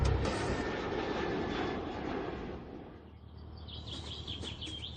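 An airplane roars loudly near the end of the landing runway at Bordeaux airport, a steady broad engine rumble that eases slightly after a few seconds, with a high whine rising toward the end.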